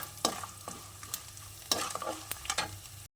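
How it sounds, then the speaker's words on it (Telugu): Dry red chillies fry in hot oil for a tempering for mango pulihora, with a soft sizzle beneath intermittent scrapes and taps of a stirring spoon in the pan, quiet and close. "ఎండుమిర్చి అన్నీ ఒక్కొక్కటిగా వేసుకొని మంచిగా వేయించుకోండి"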